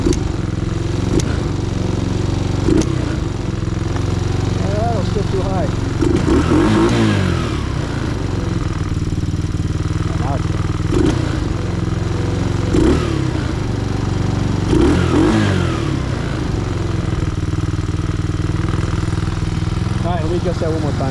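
An ATV engine under repair idles and revs repeatedly at close range, a rough mid-pitched rumble with periodic throttle surges, while people talk over it.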